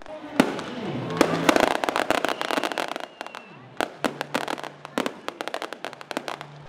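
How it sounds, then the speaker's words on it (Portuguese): Fireworks display at a harbour quay during a riverside religious festival, with dense volleys of sharp bangs and crackles, loud and fairly close, thinning into scattered pops. "No cais do porto, a queima de fogos, homenagem dos portuários"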